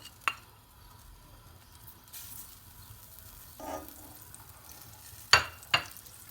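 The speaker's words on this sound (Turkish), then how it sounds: "Şimdi şu yağların biraz erimesini bekleyeceğim." Fat for semolina halva melts in a heated pot, a low, steady sizzle with a few sharp clinks and scrapes of a utensil against metal, no talking.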